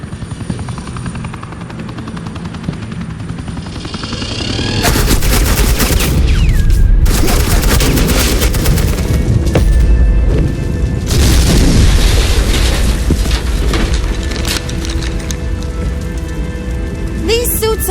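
Dense suppressing gunfire bursts out in the Batman: The Enemy Within game, loud sustained rattling volleys with booming hits and a helicopter-like roar, starting after a quieter opening of rumbling ambience and continuing nearly unbroken to the end.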